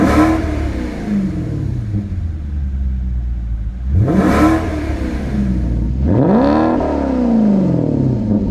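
A Maserati engine idles with a deep rumble and is revved twice, each blip rising sharply and falling away, loud and close with no talk.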